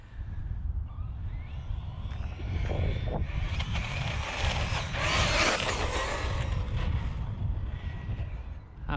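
Team Corally Sketer RC car on 6S power running fast, a buzzing motor whine rising and swelling with gravelly tire and chassis noise, fairly close and continuous.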